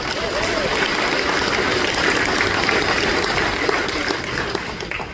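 Applause from an audience at a sprint car drivers' meeting at the Knoxville Nationals, a steady, dense wash of clapping that stays loud throughout and tapers slightly at the end.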